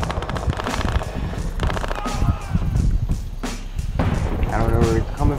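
Rapid bursts of automatic gunfire in the shooter game Battlefield Hardline, loud and dense with short gaps between volleys, as a player speaks over the shooting.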